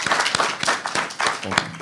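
A debate audience claps in a steady, moderately loud patter of many hands that swells and thins across the moment, while a voice speaks over part of it.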